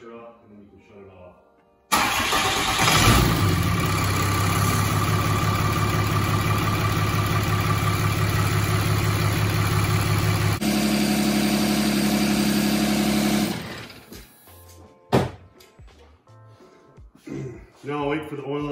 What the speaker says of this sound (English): I'm gonna start my truck and cycle it through.